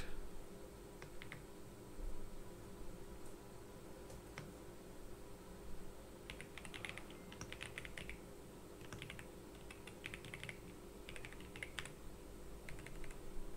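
Code being typed on a computer keyboard, bursts of soft rapid key clicks with pauses between, close and quiet over a steady hiss of background noise, no talking.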